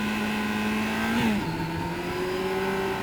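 A motorcycle engine on a road ride holds a steady note, dips briefly around a gear change, then pulls higher as the power comes on, loud and close throughout with no speech.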